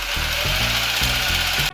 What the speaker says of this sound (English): Jigsaw hacksaw modification experiment number 1.